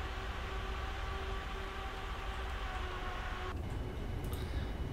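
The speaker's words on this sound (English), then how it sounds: "Very quiet engine sounds." Quiet cockpit engine sound of a Norwegian Boeing 787-9 in the Prepar3D v4.4 flight simulator on approach: a steady, low, broadband drone with faint tonal hum, constant throughout and no talk.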